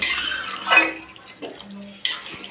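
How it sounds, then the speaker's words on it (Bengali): Water pours into a pot of simmering curry, kept to just a little for a thick gravy; a splashing gush rises and fades, with lighter clinks and trickles afterward at close range. "এরপরে জল দেব আমি"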